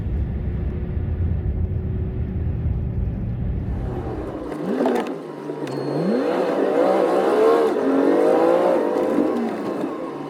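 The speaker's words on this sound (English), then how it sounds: "the sound on this, when I speed the video up, it does make me laugh. Makes it sound like a race car, doesn't it?" Sped-up recording of a truck driving along a road in Spain: a high, whining engine drone with rising revs and rapid gear-change sweeps, sounding like a race car, loud and continuous with no talk.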